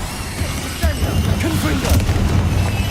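Bombarda spell explosion in the Hogwarts Legacy video game: a loud boom with crashing impacts amid busy combat noise, a voice speaking briefly over the action.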